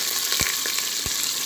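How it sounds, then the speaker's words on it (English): Onions sizzle steadily in hot oil for party fried rice, a close, even crackle broken by two soft thumps of stirring. "We will fry this for like 50 seconds before I will add the spices."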